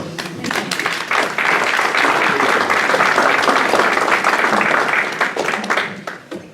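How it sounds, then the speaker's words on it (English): An audience at a historical society's annual dinner presentation applauds steadily for several seconds, with dense, even clapping that swells and then tapers off. "I just want to give you my applause"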